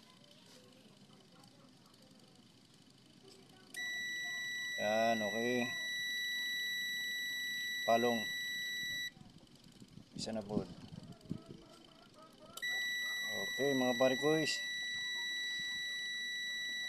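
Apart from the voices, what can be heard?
tester beeping while checking a washing machine timer wire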